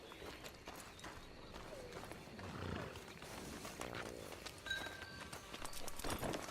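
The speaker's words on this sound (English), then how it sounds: "Get on the horse there." Horse hooves clip-clop through a busy game scene in Red Dead Redemption 2, a steady plodding rhythm mixed with ambient noise and other game sounds at moderate level.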